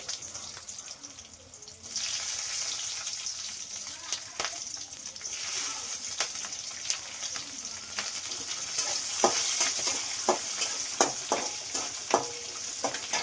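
Urad dal and chopped green chillies fry in hot oil for a ridge gourd chutney, giving a steady close sizzle with sharp scraping clicks of a spoon stirring the pan, more frequent toward the end.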